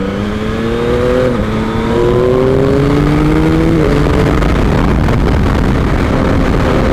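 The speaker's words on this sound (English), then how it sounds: "Hopefully we might get a nice little decent bit of overtaking on the way home" A Yamaha MT-09 motorcycle accelerates hard while overtaking, its engine note climbing through several rising gear pulls with brief drops at each shift, loud and close over steady wind rush.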